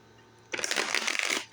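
A deck of tarot cards being shuffled, a burst of dense riffling and flicking that starts abruptly after a short quiet pause and runs steadily to the end, close and fairly loud, with no talking.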